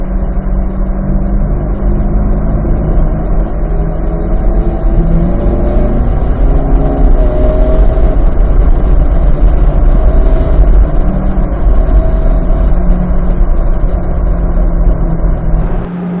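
A Corvette C8 Z06 GT3.R race car lapping Pittsburgh's Pitt Race circuit, heard from on board: a loud, sustained engine drone with shifting pitch as it accelerates, filling the whole stretch without speech.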